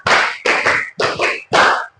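Four bursts of rhythmic hand clapping in a classroom clap pattern, a group clapping the count of five repeated three times, loud and close with brief pauses between bursts and no talking.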